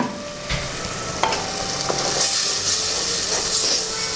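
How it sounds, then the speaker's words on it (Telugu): Tomato curry with ginger and garlic sizzling steadily in a pan, with a constant frying hiss broken by occasional stirring clicks and scrapes. "అల్లం వెల్లుల్లి ఇవన్నీ వేసినటువంటి టమాటాలు వేసినటువంటి కర్రీ ఎంతవరకు ఉడుకుతుందో ఒకసారి చూద్దాం."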